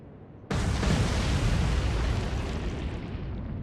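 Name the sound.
torpedo explosions in video game Atlantic Fleet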